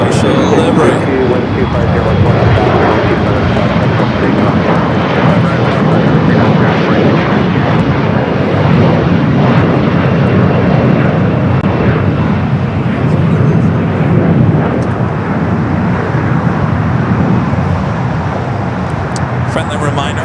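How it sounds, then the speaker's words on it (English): Austrian Airlines Boeing 777 from Vienna in Johann Strauss special livery at LAX, a loud, continuous jet engine roar with a broad rumble that stays steady throughout, a voice talking over it. "Up next is Austrian, the 777 at 200 yard, coming up from Vienna, wearing the Johann Strauss special livery."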